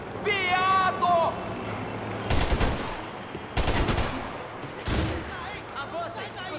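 Rapid bursts of automatic gunfire crack out in clustered volleys during a Max Payne 3 firefight in Panama, loud and near, with voices shouting in between.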